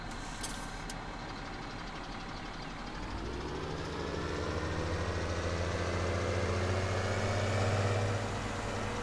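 Massey Ferguson tractor engine in Farming Simulator 17 starting up and settling into a steady low idle, rumbling louder and more droning over the second half, with no voices.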